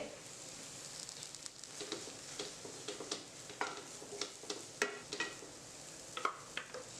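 Curry leaves go into a frying crab curry masala, producing a faint, low sizzle under soft, irregular scraping and clicking as a spoon stirs the pan. No one speaks.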